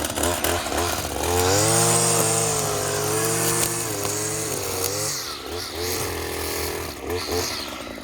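A string trimmer cuts grass at full throttle, its engine holding a loud, steady whine for several seconds before easing slightly and picking back up, with possible voices in the background.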